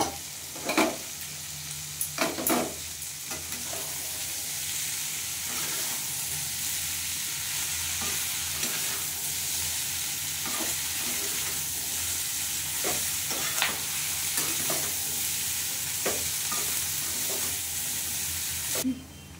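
Spring onion stalks and potatoes stir-fry in a pan with a steady, loud sizzle throughout, punctuated by intermittent spatula scrapes and clacks against the pan, heard close.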